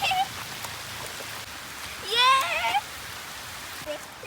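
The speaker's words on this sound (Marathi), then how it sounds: "आता पाऊस पण आलेला आहे" Rain falls on a farm field in the Konkan countryside with a steady, even patter close around, and a brief high voice-like call rises over it midway.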